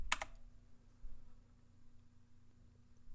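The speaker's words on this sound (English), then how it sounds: "If we hit F12 on our keyboard" A single quick pair of clicks on a computer keyboard as the F12 key is pressed, close and crisp, followed by quiet room hum.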